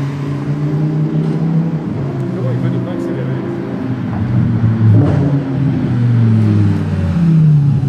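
A Porsche GT3 RS accelerates hard through the streets of Monaco, its engine roar swelling and falling amid echoing street noise. Voices talk over it.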